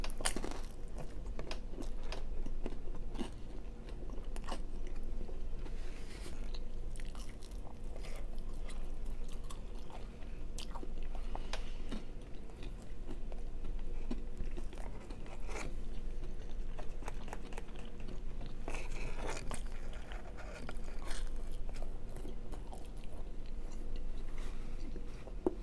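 Leftover pizza and barbecue Doritos are eaten close up, with steady crunching and chewing that carries on without a break and has no talk over it.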